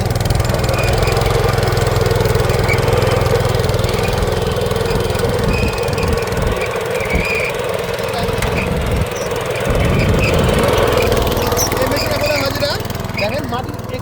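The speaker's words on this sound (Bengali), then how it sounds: "উইডার মেশিন দিয়ে এখন স্টার্ট করে চালু আসুক" A weeder machine engine runs continuously and loudly in a maize field, a steady droning mechanical rumble with slight variations in load.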